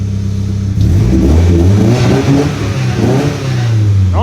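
The engine of a Nissan S13 Silvia found in a barn revs loudly and close up, climbing from idle into a sustained roar that rises and falls a couple of times before settling.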